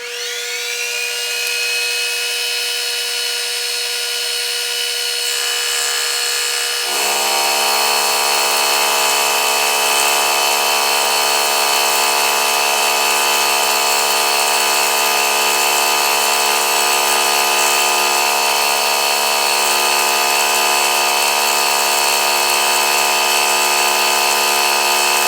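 Profile router cutter machining aluminum: a loud, sustained high-pitched whine that spins up, then holds steady as the cutter bites into the metal, with no talk over it.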